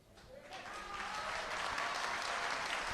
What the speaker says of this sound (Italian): E gli applausi continuano